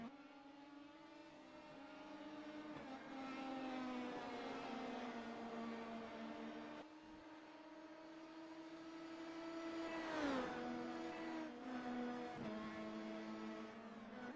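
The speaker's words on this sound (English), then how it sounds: "they're a pretty quiet car to begin with. So they just sound like an oversized bumblebee" Quiet race cars drive past with a buzzing, bumblebee-like engine whine that rises and falls in pitch, sometimes overlapping, at moderate loudness with no talk.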